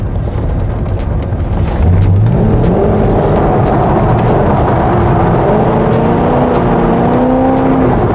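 A car engine drones loudly from inside the cabin as the driver gives it too much throttle, the pitch rising in a few sweeps over steady road rumble.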